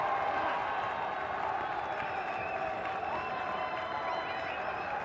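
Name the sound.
crowd applauding at cricket match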